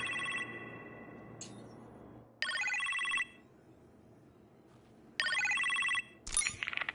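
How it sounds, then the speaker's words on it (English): A telephone rings in a kitchen in the VR Iron Man video game, with bursts of electronic ringing separated by pauses and a quieter chime between them, heard over a low background hum. "You appear to have a phone call in the kitchen, sir."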